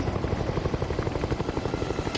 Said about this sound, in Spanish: Dos helicópteros Black Hawk despegan de una base aérea estadounidense.